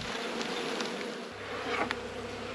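Honey bees buzz close by during a winter hive inspection, a steady, continuous hum with slight swells in pitch and loudness and no voices.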